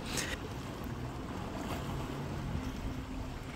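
Seawater splashes up between shore rocks at Perfume Point, New Zealand, a steady surging wash of surf mixed with wind buffeting the microphone, no talking.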